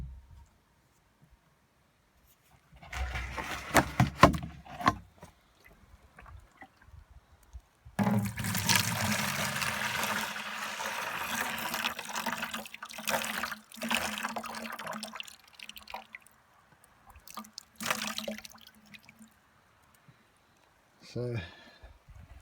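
Maple sap being collected from a bucket hung on a tree outdoors in the morning, with splashing and pouring of liquid and clattering handling between stretches of quiet, and a person's voice speaking nearby.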